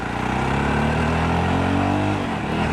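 Engine of a Jawa Perak motorcycle while riding at a normal, gentle throttle; a loud, close, steady low thrumming with even harmonic tone and slight pitch shifts, with no talk over it.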